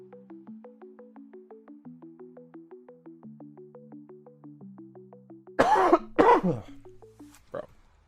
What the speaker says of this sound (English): I can't stop coughing now